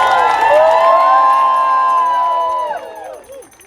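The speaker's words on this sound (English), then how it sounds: "let's give another amazing round of applause to Cecilia Wong" A protest crowd outside the Supreme Court cheers and whoops for Cecilia Wong, loud sustained voices rising together, then trailing off near the end.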